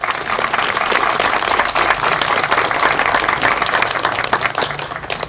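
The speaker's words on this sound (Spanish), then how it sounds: "a quien pido un aplauso." An audience claps loudly and steadily for several seconds, a dense wash of applause that stays even throughout.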